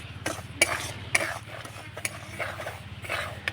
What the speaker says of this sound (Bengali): শুকনো খোলায় একটু নাড়াচাড়া করে সুজিটাকে ভেজে নেব